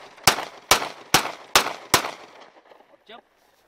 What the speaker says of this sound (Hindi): आप सेमी ऑटोमेटिक मोड में इसको अपने टारगेट पे फायर कर सकते हैं